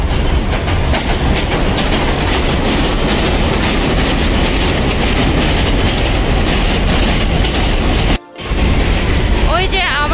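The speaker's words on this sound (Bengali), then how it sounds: "ট্রেনও চলে আসছে, এখন ট্রেনে উঠবো।" A subway train arriving at a Brooklyn station roars loudly and continuously with rumbling and rattling, a brief gap, then high metallic wheel squeals as it slows.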